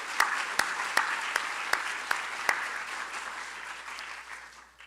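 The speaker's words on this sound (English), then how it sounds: "join me in giving them a round of applause for all that they did" Hall of fame attendees applaud the event organizers: a roomful of clapping with a few sharp, louder claps standing out near the start, then the applause slowly thins and fades toward the end.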